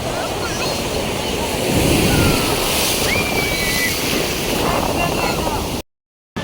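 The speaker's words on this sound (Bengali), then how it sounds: "সত্যি পুরীর সমুদ্রের এত উত্তাল ঢেউ" Rough, churning sea waves at Puri beach: a constant roar of surf with gusty wind buffeting the microphone, steady and loud, briefly dropping to silence near the end.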